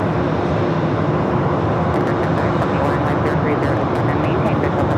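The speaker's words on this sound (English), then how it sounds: "Departing Airbus on the parallel site" A departing Airbus airliner at Phoenix Sky Harbor airport roars as a steady, broad engine rumble that holds constant throughout, loud and continuous.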